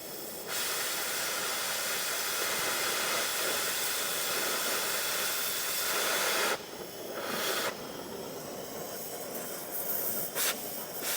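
A gas torch flame cutting slag, a loud continuous hiss running throughout, with a few short breaks and shifts in the last seconds.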